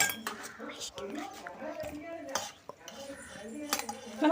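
Ice cubes clink and rattle against a glass amid scattered clatter of utensils, with some faint voices nearby.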